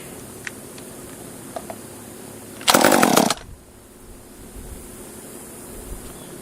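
A cheap top-handle chainsaw engine that is running short of fuel roars loudly for under a second, then cuts out, leaving a faint background hiss.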